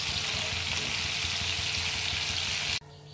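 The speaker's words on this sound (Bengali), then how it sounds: "আমি লাস্টে গার্নিশে দেওয়ার জন্য ভেজে নিলাম" Food fries in a pan as a garnish for chicken curry, giving a continuous dense sizzling hiss that cuts off abruptly near the end, leaving a quieter background.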